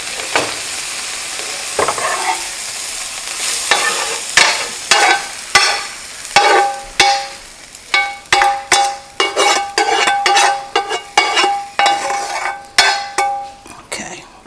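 Cooked spinach sizzles and fries in a pan while being stirred and lifted out, with repeated close scraping and clattering strokes of a utensil against the pan over a steady hiss.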